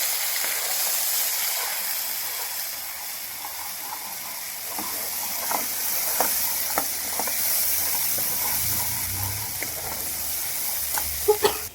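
Spice paste sautéing in hot oil for a rural-style brinjal curry, a steady broad sizzle and hiss with occasional stirring scrapes and clicks, close and continuous with no talk.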